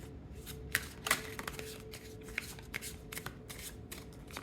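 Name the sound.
shuffling tarot cards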